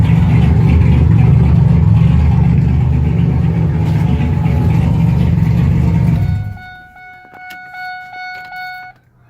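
A GTP lawn tractor engine fitted with stainless steel valves, Kohler plugs and thermostat runs loud and steady up close for about six seconds, then cuts out and winds down to quiet.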